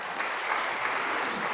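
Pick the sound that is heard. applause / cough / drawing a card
applause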